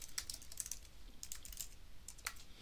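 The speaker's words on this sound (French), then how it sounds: "vous pouvez ajouter et taper à l'aide de votre clavier" Quiet typing on a computer keyboard, a scattered run of light clicking keystrokes in small bursts, close and soft, with no voices.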